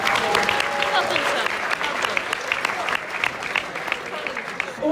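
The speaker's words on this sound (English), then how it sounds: "I think we need a round of applause for our judges." An audience at an awards evening applauds the judges, with steady, dense clapping from a crowd sustained for several seconds.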